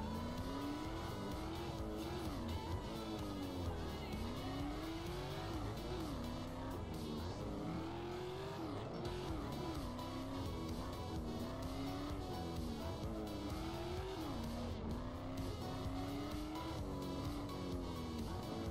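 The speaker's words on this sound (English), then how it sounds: "I will try to drift" A car drifts in the Need for Speed racing game, with the engine revving up and down in waves and tires squealing repeatedly, loud and continuous with no voices.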